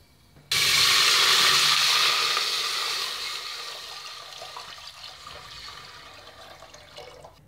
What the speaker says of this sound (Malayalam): അപ്പം നമുക്കിനി വെള്ളം ചേർത്ത് കൊടുക്കാം